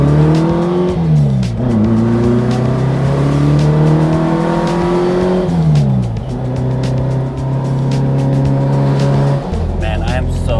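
Porsche 356 Speedster engine revving hard and accelerating through several gear changes, loud and close, with rising pitch sweeps that drop at each shift and a brief settle near the end.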